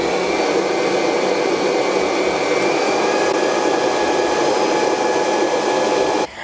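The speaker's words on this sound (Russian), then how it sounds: "увеличиваю скорость и взбиваю" An electric mixer whisks eggs with vanilla sugar and ordinary sugar at high speed for a charlotte apple pie batter, a loud, steady, close whirring drone that runs unbroken and stops abruptly at the end.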